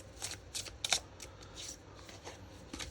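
A deck of tarot cards is shuffled close by in a single quiet pass, with soft riffling bursts of card flicks and no talking.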